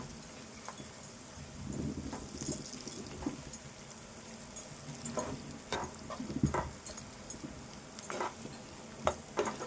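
Ginger garlic paste frying in a pan while making Telangana chicken soup, a soft, quiet sizzle broken by intermittent stirring scrapes and clicks, with no talking.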